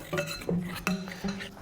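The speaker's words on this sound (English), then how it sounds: "mix this together until you have a batter" Whisk or spoon clinking against a bowl while Yorkshire pudding batter is mixed, a few quick, close metallic taps in an uneven rhythm.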